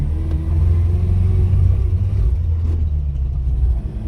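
A small two-stroke car engine idles and runs steadily nearby, a continuous low buzzing rumble with a faint rattle throughout.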